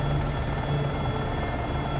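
AS350 B3+ helicopter in a flight simulator, a steady close rotor and turbine drone with a low thumping hum running unbroken throughout.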